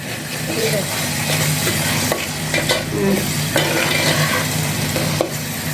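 Tomatoes with onion and masala for a Tamil katla fish curry sauté in a pan, a constant loud sizzle with spoon stirring and scraping against the metal, close up and without talk.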